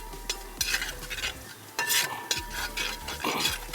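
Ginger and garlic fry in a pan for a pearl spot and tender coconut dish, sizzling steadily while a spoon scrapes and stirs in repeated close strokes, with no voices.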